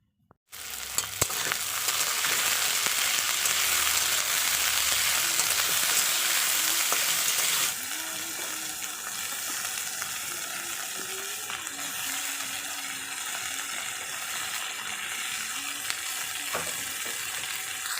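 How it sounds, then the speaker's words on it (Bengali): Loud, steady sizzling of beans and kohlrabi frying in a pan, continuous throughout with occasional stirring clicks, dropping slightly in intensity partway through. "বিন কড়াই আর ওলকপিগুলো দিয়ে একসাথে ভাজবো"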